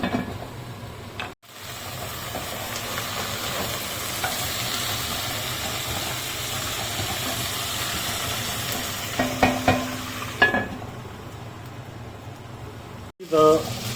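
Onions turned golden fry over a low flame in a wrought iron vessel, a steady close sizzle with stirring and a few sharp clinks of the spoon against the pot, briefly cut off twice.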